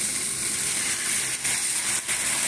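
Warm water is poured into fried spice paste in a pan, setting off a loud, continuous hiss and sizzle with brief dips, up close and without talk.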